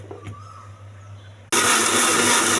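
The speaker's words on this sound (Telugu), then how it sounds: "ఇది కూడా మిక్సీ వేసుకోవాలి." A kitchen mixer grinder starts up to blend tomatoes for chutney, a quiet room giving way to a sudden, loud, steady whirring roar that holds to the end.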